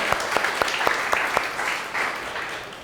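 A church congregation applauds during a Sunday service, a broad wash of clapping with a few sharper claps standing out early, fairly steady and fading slightly at the end.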